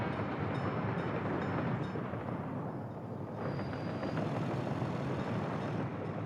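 Trains in Workers & Resources roll past as a steady, dense rumbling rush of wheels and carriages, fairly even in loudness throughout, with a brief high whine near the middle and no talking.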